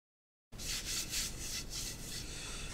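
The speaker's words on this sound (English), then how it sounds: "trying to cut that bead with the resin and the wood is probably the hardest beading I've ever done." A lathe tool cutting a bead into a spinning resin and wood platter, a steady close scraping rasp with rhythmic pulses as the tool rubs the turning piece, with no talking.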